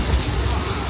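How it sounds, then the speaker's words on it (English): Steady artificial rain from sprinklers mounted atop studio backlot buildings, water falling to the ground as a dense, continuous hiss and patter with low rumble, no pauses. "It sprinkles at the top of these buildings, shooting out water straight out, letting gravity do the rest by having it fall down naturally to the ground."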